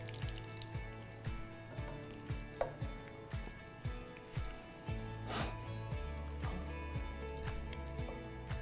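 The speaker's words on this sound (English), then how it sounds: "Essentially, you just want to let your butter melt." Butter melting in a pan for a tropical bread pudding, giving a steady soft sizzle broken by regular light ticks and taps, close and moderately quiet, with no talking.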